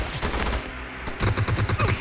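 Gunfire in the battle royale game PUBG: rapid automatic shots crack in quick bursts, loud and close, with a denser rhythmic volley toward the end and no talking.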